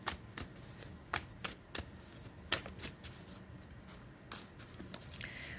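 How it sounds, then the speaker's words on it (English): A deck of cards is shuffled by hand at close range, quiet crisp riffles and snaps coming in irregular bursts with pauses between, with no talking. "I shuffle the House of Zelda deck."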